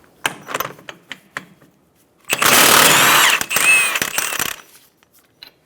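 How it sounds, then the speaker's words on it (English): A burst of loud mechanical whirring and ratcheting as a 36mm socket spins off the front axle nut of a 2012-2020 Chevrolet Sonic, after a few sharp clanks and taps. "Using a 36mm socket, remove the axle nut."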